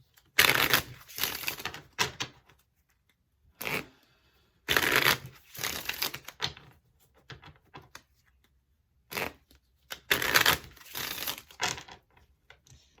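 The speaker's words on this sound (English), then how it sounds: "Let's go ahead and close this out by pulling 3 Earth Magic cards." Earth Magic oracle cards shuffled by hand in several quick riffling bursts separated by short pauses, close and crisp, with soft card slides and taps in between.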